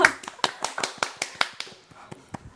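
About a dozen sharp hand claps in a quick, even rhythm, close by, gradually slowing and softening toward the end.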